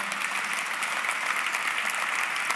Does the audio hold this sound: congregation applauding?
yes